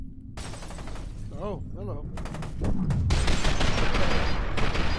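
Rapid gunfire rattles loudly through a fight in the video game FEAR 2, growing denser and more sustained toward the end, with a voice speaking briefly under the shooting.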